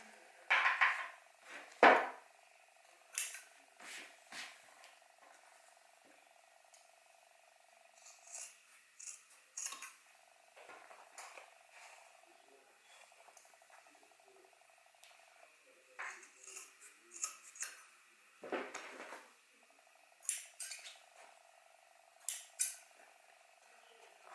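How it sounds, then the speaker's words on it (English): Scissors trimming excess fabric from a flat machine-stitched piece of a zip-around long wallet, giving scattered crisp snips and small clicks at irregular intervals over a faint steady hum, fairly close and moderately quiet, with no talking. "just going to trim off the excess"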